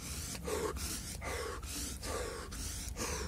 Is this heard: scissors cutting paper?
no